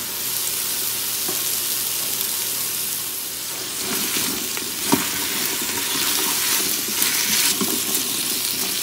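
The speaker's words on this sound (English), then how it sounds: "And I'll let that just saute for a minute or two." In an Instant Pot, onions, carrots and potatoes sauté in a little olive oil with a constant, fairly loud sizzle and occasional utensil clinks and stirring scrapes.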